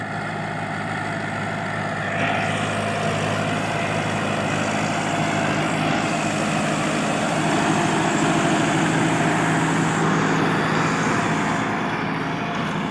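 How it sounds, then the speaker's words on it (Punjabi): A new 350 tractor engine running steadily under load in a field, a continuous heavy drone pulling a disc harrow with rattling, fairly close throughout. "350 ਨਵਾਂ ਟਰੈਕਟਰ ਡਿਸਕਾ ਮਾਰ ਰਹੀ ਆ"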